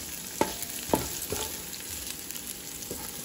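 Chopped onion, garlic and ginger sautéing in a pan with steady soft sizzling and a few sharp clinks of a utensil against the pan, close by.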